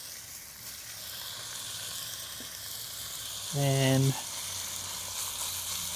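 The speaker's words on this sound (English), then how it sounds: "we're going to add it to a nice hot pan. If you don't hear that sizzle, your pan's probably not hot enough." Chunked beef sizzles steadily in a hot pan, a constant close frying hiss with a brief louder whine partway through, while a voice speaks faintly over it.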